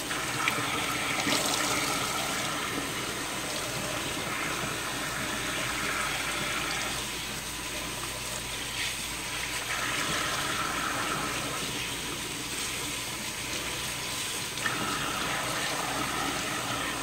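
Water running steadily over old oiled kitchen woodwork as degreaser is rinsed off, a continuous close splashing wash that barely changes in level from start to end.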